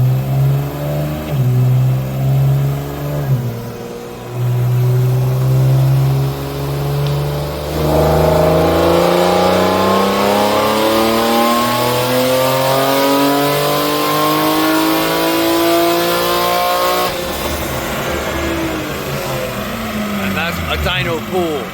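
A race car engine revs hard on a dyno at Watkins Glen, rising steadily in pitch through a long sustained pull before dropping off. The sound is very loud, close and constant, with a voice faintly underneath.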